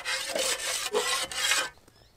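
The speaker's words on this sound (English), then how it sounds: "just scrape it all off with another shovel" One shovel scrapes wet, sticky dirt off another in several loud, rough rasping strokes close by, then stops abruptly, with no talking.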